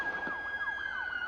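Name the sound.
police siren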